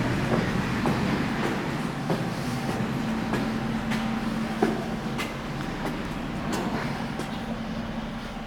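Regional Express RE8 from Wismar pulls into Ludwigslust Station, a steady low rumble of wheels with rhythmic clicks over rail joints and a faint squealing tone, gradually easing as it slows.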